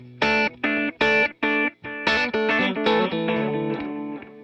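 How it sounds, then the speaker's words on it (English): Electric guitar run through a subtle analog delay with modulation: a few crisp repeated chords, then a looser phrase whose notes blur together as soft echoes trail behind each one and fade out. "Here's a little delay."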